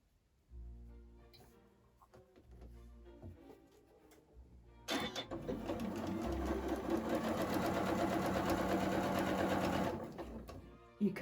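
A sewing machine stitches seams on a modern quilted pillow: a quieter, intermittent run of stitching gives way to a loud, steady, rapid mechanical whir that holds for several seconds, close up and with no talking.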